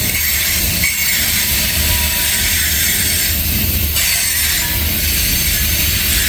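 A mixed manifest freight train rolls steadily past on the rails, its wagons giving a continuous loud rumble and rattle throughout, with a brief squeal of wheels and no voices.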